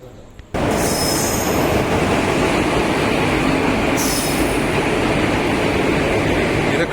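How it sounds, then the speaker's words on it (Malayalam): The Shoranur–Kannur passenger train pulls into a station, arriving at Thalassery, with a loud, steady roar of wheels and carriages and sharp wheel squeals near the start and again midway. "ആ ട്രെയിൻ അവിടെ നിന്ന് ലൈറ്റ് അടിച്ച് വരുന്നു."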